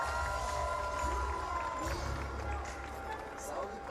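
A crowd cheers and shouts steadily for the winner of a 3x3 basketball national championship game. The roar is loud and sustained, and a voice speaks over it.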